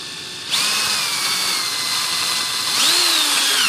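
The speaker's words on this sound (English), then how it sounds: "then you come back with your drill bit, and it will go through in no time, because you have a pilot hole now." A power drill whirs up sharply and bores through a pilot hole during an RC glider aileron build, a loud steady high-pitched whine that shifts pitch near the end as the bit loads.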